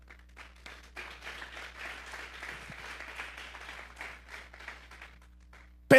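A church congregation claps during a sermon on Psalm 31, soft and fairly distant, with a steady patter of hands that ends abruptly.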